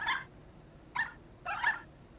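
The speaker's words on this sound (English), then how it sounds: "Why are you barking at me like that?" A virtual puppy in Nintendogs gives three short, high yips, one at the start and two more about a second apart, fairly faint and clear over quiet background.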